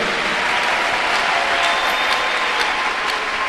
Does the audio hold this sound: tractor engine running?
no